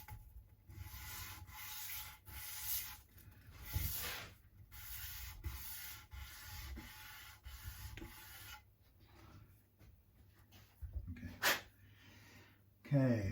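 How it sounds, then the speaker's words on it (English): Repeated scratchy rubbing strokes of sanding on a guitar nut, in steady bursts with brief pauses, close up, with some breathy noise between. "A tiny bit more sanding on this end."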